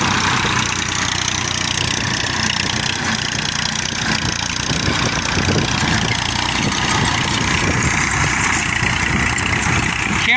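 A Massey Ferguson 241 tractor engine runs steadily at close range, a loud low rumbling throb with a knocking texture that barely changes throughout.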